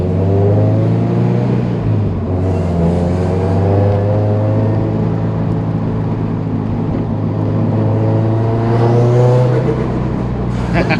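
A tuned Subaru WRX engine holds a loud, deep, steady drone, rising and easing slightly in pitch as it is revved, heard up close throughout.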